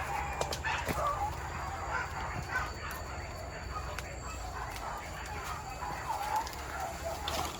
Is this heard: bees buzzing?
no